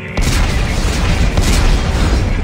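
An explosion in the Dead Space 3 video game: after a brief quiet start, a loud heavy boom erupts and rumbles continuously for over two seconds.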